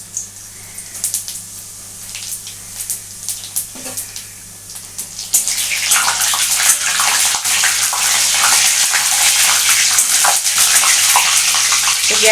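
Dried red chillies and five-spice seeds hit hot oil for tempering a masala brinjal curry, bursting into a loud, steady broadband sizzle that swells after a quieter start and crackles on without a break.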